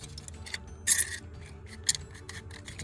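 Scissors snip through material while making dog tags, with small scraping clicks and two louder crisp cuts spaced about a second apart, close and clear with no talking.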